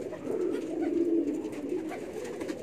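A female jetmatic gambir pigeon coos in a low, soft, rolling murmur, a few drawn-out coos heard close and quiet with no talking.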